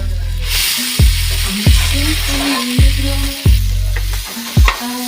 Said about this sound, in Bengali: লঙ্কা কুচি দিয়ে ভালো করে এটাকে ফ্রাই হচ্ছে।